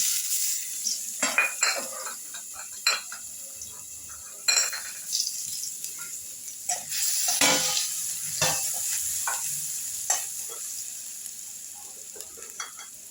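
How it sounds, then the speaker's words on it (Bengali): Nigella seeds and garlic sizzle in hot oil for a Bengali ridge gourd and potato dish, with a spoon stirring and clinking against the pan in sharp intermittent strikes over a steady frying hiss. "কালো জিরা ফোড়ন দিচ্ছি, দিচ্ছি রসুন"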